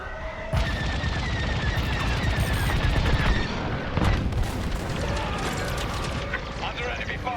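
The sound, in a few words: enemy fire in the Star Wars: Squadrons video game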